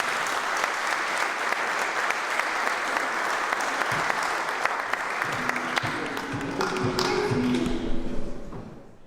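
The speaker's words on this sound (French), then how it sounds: "S'il vous plaît, un tonnerre d'applaudissements." An audience at a public debate on secularism breaks into sustained, dense applause that fills the room, then thins out and fades near the end with a few stray thumps.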